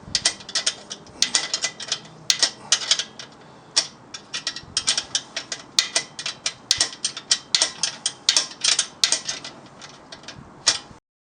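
A ratchet tightens the gas tank studs on a motorized bike with an upgraded one-gallon tank, giving rapid runs of sharp, close clicks in uneven bursts, with no talking.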